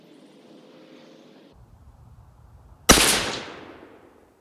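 A single loud rifle shot from a 25 GPC firing a Sierra 90 grain HPBT varmint handload, a sharp close blast with a ringing decay after quiet low rumble.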